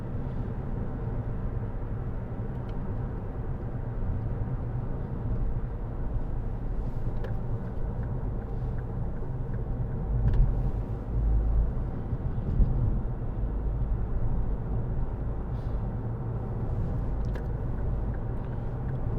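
A 2012 Ford Kuga 2.0 TDCi Titanium with Powershift and four-wheel drive cruises along a road, its engine and tyre roar forming a steady low rumble with a few brief bumps and no talk.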